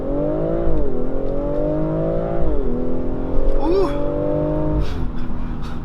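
A 355 hp 2019 BMW X4 M40i accelerates hard, its loud engine note climbing steadily, dipping at a gear change, then pulling up again under constant road and wind noise.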